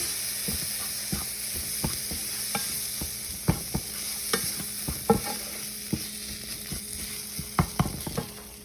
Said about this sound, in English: Garlic. And you gotta keep moving it around so that it doesn't burn.